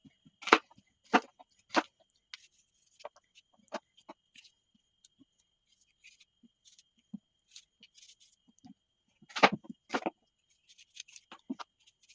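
A knife taps sharply on a cutting board as apples are diced into small cubes, with irregular bursts of quick chops separated by pauses in an otherwise quiet kitchen.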